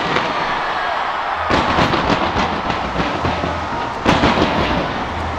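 Fireworks burst over Taipei 101 on a rainy New Year's Eve, a dense ongoing crackle of pops and booms with a few sharper bangs, heard at a distance against steady background hiss and rain.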